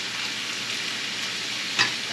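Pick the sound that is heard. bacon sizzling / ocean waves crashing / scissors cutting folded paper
bacon sizzling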